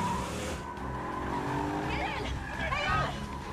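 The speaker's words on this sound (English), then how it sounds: "The car chases in this movie are so good." Car chase scene from the film National Treasure 2: Book of Secrets, with loud engines roaring and tires squealing beneath dialogue and dramatic music, sustained throughout.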